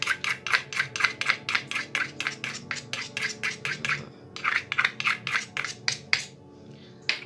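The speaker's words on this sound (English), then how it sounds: "Horrible grating noises." Handmade soap bar being grated, a steady run of rapid rasping scrape strokes close to the listener, pausing briefly midway and then resuming, with no talking.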